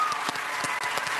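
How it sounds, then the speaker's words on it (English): Several hand claps ring out sharply and irregularly in a room, layered over a steady background hum, with no voices. "I'm gonna clap for that."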